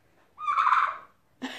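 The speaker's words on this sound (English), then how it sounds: "Got a turkey in the house." Indoors, a turkey hen lets out one drawn-out, wavering call at close range, and a second call begins just as the clip ends.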